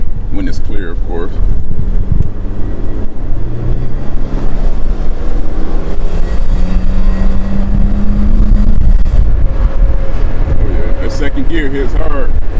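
A classic Mercedes-Benz W124 pulls hard on a main road, its engine note climbing in pitch, dropping at a gear change and rising again, heard from inside over heavy wind rush, with someone talking throughout.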